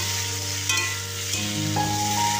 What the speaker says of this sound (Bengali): আলু বড়ি আবারও একটু ভালো করে মিশিয়ে নেব